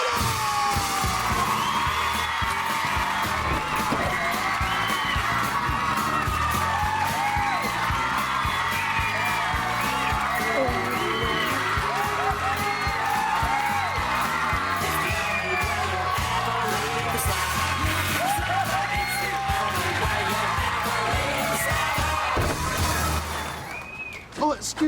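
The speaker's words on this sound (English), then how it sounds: "give them all a great round of applause! And some cheers!" Studio audience at a children's comedy show applauding and cheering, a loud, sustained wash of clapping with whoops and yells over music-like beats, fading abruptly at the end.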